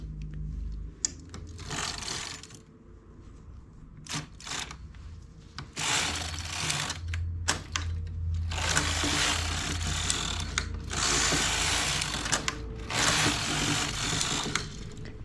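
A knitting machine works a two-colour baby bootie, its carriage sweeping back and forth in long rasping, clattering passes broken by short clicks and pauses. The sound is close and steady, and no one speaks.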